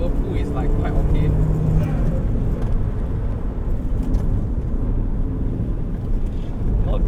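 Modified turbocharged Colt Ralliart Version-R accelerating in third gear, a loud, continuous engine drone with wind and road roar heard from inside the car.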